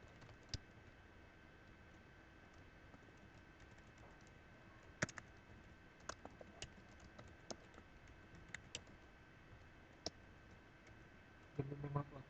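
Someone types C++ code on a computer keyboard, with faint, sparse key clicks and a few sharper taps spread over a quiet stretch, ending in a brief cluster of keystrokes.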